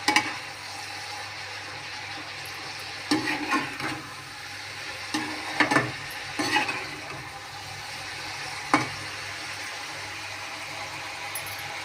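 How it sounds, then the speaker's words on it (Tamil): Garlic and vegetables frying in oil in a pan, a low steady sizzle broken by several short bursts of stirring or scraping clatter, close and unaccompanied by speech. "அது பூண்டு வந்து எண்ணெயில் பொரியும்"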